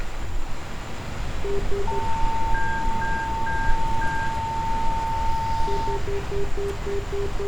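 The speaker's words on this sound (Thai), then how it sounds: "เสียงที่อยู่ได้ยินเสียงตื้อตื้อตื้อตื้อตื้อนี่คือเสียงเตือนเอเอนะครับ" In an F-4E cockpit in the DCS flight simulator, a warning tone beeps in repeated short pulses alongside a steady held tone over a loud, continuous engine and wind roar, with no talking.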